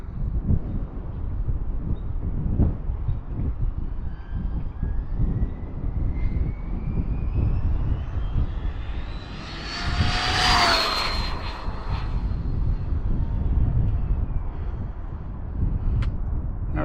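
HPI Maverick RC car fitted with a SpeedTek speed spool and 30/35 gears, running at full throttle: a high whining motor rising in pitch as it passes, over steady wind and outdoor noise.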